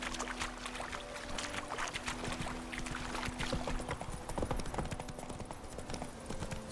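Horse hooves clip-clop in a quick, steady rhythm as the horse is ridden in the video game Witcher 3 Wild Hunt on Xbox One, moderately faint over soft outdoor ambience.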